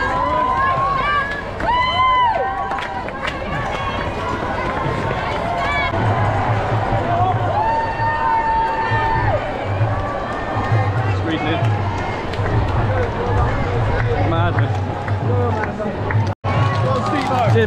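A roadside crowd cheers and claps along the London Marathon course, a steady dense roar of voices and whoops that runs the whole time, with runners' footsteps and nearby talk mixed in.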